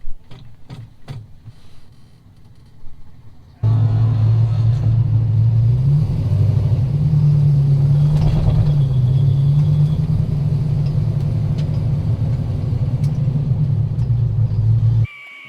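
After a few quiet knocks, a rally car engine starts and idles while warming up, a low, steady rumble that holds for about eleven seconds before cutting off.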